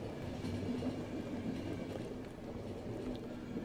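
A moving train in the video game The Final Station gives a quiet, steady rumble with a faint rhythmic clatter running throughout.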